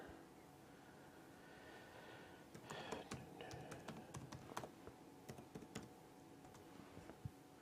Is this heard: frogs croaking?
no